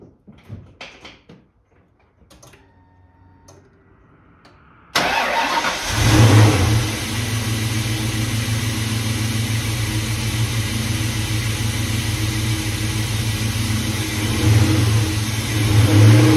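An SN95 Ford Mustang fitted with a cold air intake cranks and fires up after some quiet clicks and clunks, then settles into a loud, steady rumbling idle close by with occasional small revs.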